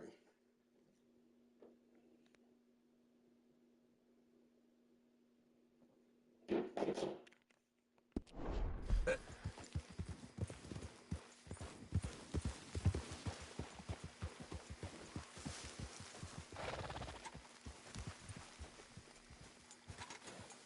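Horse hooves clatter in a steady clip-clop rhythm in the video game Red Dead Redemption 2 for several seconds after a quiet start, moderately close, with a brief rustle just before.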